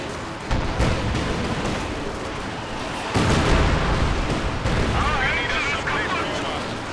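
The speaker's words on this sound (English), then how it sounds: "looks like the Panzer IV Command Tank goes down" A Panzer IV command tank is destroyed in a Company of Heroes World War II battle, with heavy booms and blasts over rolling gunfire. A commentator talks throughout.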